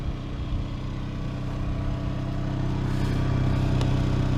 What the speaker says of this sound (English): Now I've been running this generator with the quiet box on top of it